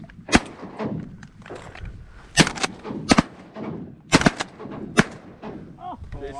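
Shotguns fire during a duck hunt in a Michigan blizzard, about ten sharp, loud blasts in irregular clusters, some shots fired in quick succession, with wind and muffled voices between.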